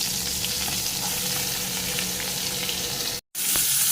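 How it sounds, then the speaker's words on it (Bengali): Onions frying in oil with panch phoron spices in a pan, a loud steady close sizzle with a faint crackle, running continuously apart from one very brief dropout near the end, no talking. "একটু পাঁচ ফোড়নের ফোড়ন দিয়েছি তার মধ্যে পেঁয়াজটা দিয়ে ভেজে নিচ্ছি"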